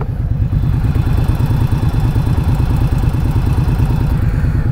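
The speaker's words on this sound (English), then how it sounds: "Is that the bike I hear?" A 2019 Indian Scout Bobber motorcycle runs steadily with a low, close engine rumble and a constant whirring tone, with no talk over it.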